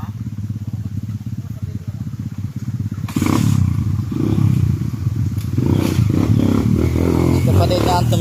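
Motorcycle engine on a trail ride, a steady low rumble that jumps louder and rougher at about three seconds as the rider pushes on, with clattering and people talking over it.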